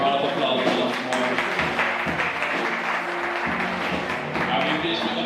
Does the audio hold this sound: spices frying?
no